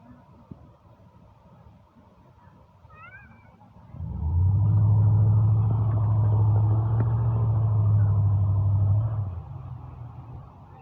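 A newer Chevy Silverado pickup rumbles past with a deep, loud engine drone that swells in, holds for about five seconds, then fades, after a quiet stretch with a faint cat meow.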